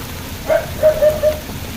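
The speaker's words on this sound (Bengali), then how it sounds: "দিয়ে দিলাম পরিমাণ নুন আর একটু হলুদ দিয়ে ভালো করে কড়া করে ভেজে নেব" Shrimp fry in hot oil in a wok with salt and turmeric, a soft continuous sizzle with a few brief crackling pops close by.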